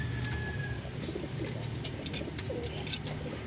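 Domestic racing pigeons coo softly and repeatedly nearby. Other faint bird chirps and background noise run underneath, with no voices.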